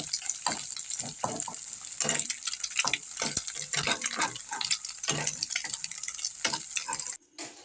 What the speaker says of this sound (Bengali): দুটো দুটো ডিমকে আগে ফাটিয়ে ভুজিয়া করে নেওয়া হচ্ছে